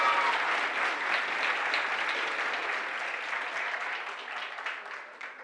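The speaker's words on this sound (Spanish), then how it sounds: "Aplausos para Carol" A crowd claps for Carol Rivera, a contestant at a regional school oratory competition in Los Santos, Panama, in a sustained wash of applause that fades gradually toward the end.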